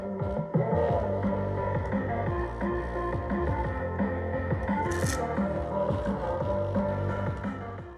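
Water splashes and bubbles over a JBL Flip 7 portable speaker while it keeps playing music, a loud steady churn of sloshing and squishing mixed with the throbbing tune, with no talk.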